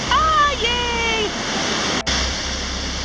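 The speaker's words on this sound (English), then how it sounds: "Lower South Falls, and it looks like we could go behind this one too." Lower South Falls at Silver Falls pours with a loud, steady broadband roar, heard up close, while a high whistling tone briefly sounds over it near the start.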